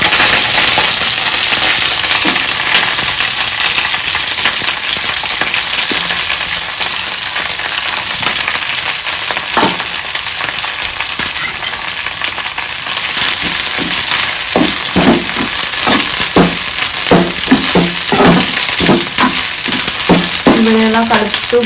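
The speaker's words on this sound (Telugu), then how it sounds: "సో ఇప్పుడైతే కరివేపాకు వేసేద్దాం ఇందులో." Curry leaves crackle and sizzle in hot oil, a steady loud frying hiss throughout with scraping stirring strokes growing more frequent toward the end, no talking.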